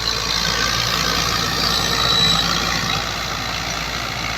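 A Fiat 85 HP tractor engine running steadily in a village field while working a cotton planter, a loud continuous mechanical drone with no talk over it.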